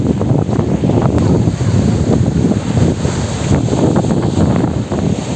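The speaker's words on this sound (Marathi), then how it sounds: "लाटा वरपर्यंत येतात रे बघ" Sea waves wash against a crumbling fort rampart at Malvan, a loud continuous surf roar mixed with heavy wind buffeting on the microphone, with no talking.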